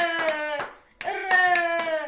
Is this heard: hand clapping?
yes